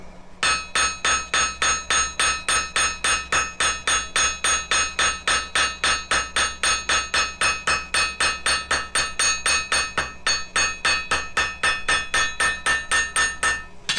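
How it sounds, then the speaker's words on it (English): A blacksmith's hammer, struck with its other end to dimple the top of a metal mounting point, strikes in a fast, even rhythm, dozens of sharp ringing blows repeated steadily and close by, with no talking. "I'm going to use the other end of the hammer to make dimples here at the top of the mounting point"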